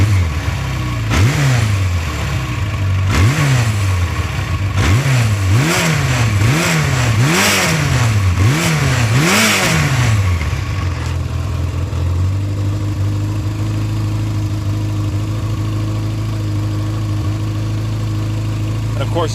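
1992 Yamaha XJ600 Seca II motorcycle engine with a charging system fault, close and loud, revved in a series of about eight quick rising-and-falling blips, then settling back to a steady idle.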